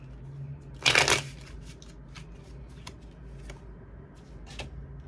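A deck of tarot cards is shuffled in one brief, crisp riffle near the mic, followed by a few faint taps and rustles in an otherwise quiet room.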